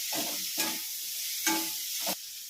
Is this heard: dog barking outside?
no